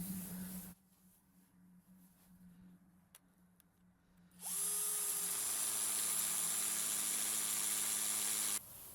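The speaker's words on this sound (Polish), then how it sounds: "Wiertełko do betonu Fi 6." A Drillpro 21V hammer drill with a 6 mm concrete bit whines steadily at high speed into concrete for several seconds after a quieter stretch with faint ticking, then stops abruptly; loud and close.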